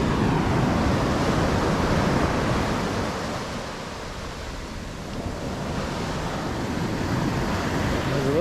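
Waves washing onto a small secluded beach cove at Sayulita, Mexico, a steady roar of surf with a slight lull in the middle, loud and close, with wind buffeting the microphone.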